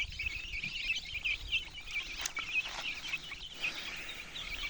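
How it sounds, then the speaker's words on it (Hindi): Desi chickens roaming loose outdoors on a farm, with soft clucks and chirping calls repeating steadily at moderate distance and a brief sharper sound midway. "तो ये देखो किस प्रकार से घूम रही हैं ये सब।"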